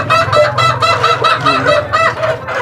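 Pet chickens, a hen and a rooster kept for breeding, clucking loudly and close up in rapid repeated bursts with honking calls, no voices.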